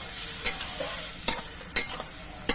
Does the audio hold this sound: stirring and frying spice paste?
yes